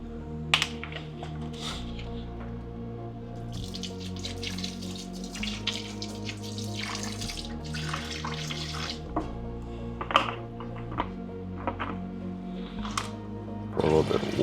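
A kitchen tap runs water into a bowl while chicken is being washed with lime and vinegar, a faint steady trickle with light clinks, under a man's speech.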